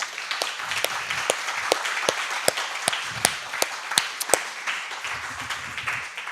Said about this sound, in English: Can we get a round of applause for Smart Patients?